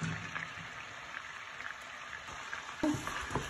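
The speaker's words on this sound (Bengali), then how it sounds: "আর ও যে গরম তেলের মধ্যে এখন আমি ও পেঁয়াজটা রান্না দিলাম।" Chopped onion sizzles in hot oil in a pan, a soft continuous frying hiss with faint crackles and a clatter near the end, no talk.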